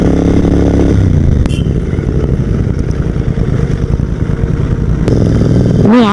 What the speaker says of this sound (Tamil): ஒரு சூப்பர் பைக் சவுண்ட் மாதிரி இருக்குங்க